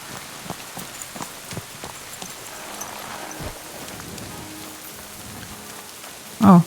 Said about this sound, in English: Oh, there, sitting outside in the rain.